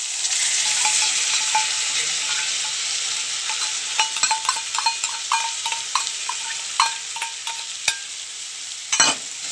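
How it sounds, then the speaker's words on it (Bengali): Potatoes fry with spices in a pan and are stirred continuously. A loud sizzle runs under rhythmic scraping and clinking strokes, with a sharper knock near the end. "এবার এইভাবে নাড়তে নাড়তে আলুটাকে একটু ভাজা ভাজা করি"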